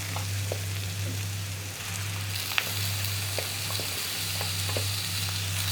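Chicken pieces fry in a spiced onion masala with a continuous close sizzle and a low steady hum, and a few faint clinks and pops of stirring over the frying.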